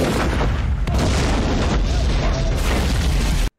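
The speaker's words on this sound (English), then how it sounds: "cannon fire." Cannon fire in the 1996 action film The Quest: loud, dense rumbling booms with a sharp crack near the start, sustained for a few seconds before cutting abruptly to silence.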